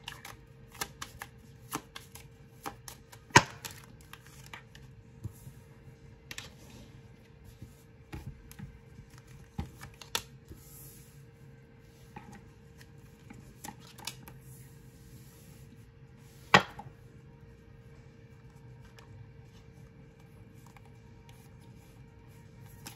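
Tarot cards are shuffled in a quiet room, giving soft repeated riffles and scattered sharp slaps of the deck, the loudest snaps standing out alone at intervals.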